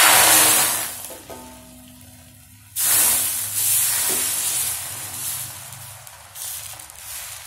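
Wheat rava and tomato dosa batter poured onto a hot griddle gives a loud hiss that fades into a steady softer sizzle, then flares again in bursts.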